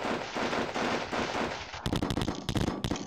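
Units trading fire in the wargame Sealion '40, with a dense wash of distant gunfire at first, then sharper bursts of close, repeated shots cracking in quick clusters toward the end.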